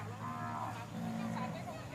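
A buffalo at a cattle and buffalo market in Chum Phae, Khon Kaen, gives two drawn-out low moos, moderately close, with faint background murmur.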